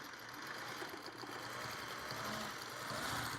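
Sewing machine running steadily while stitching traditional quilt blocks, a continuous close whirring hum with a fast mechanical rhythm and no talk over it.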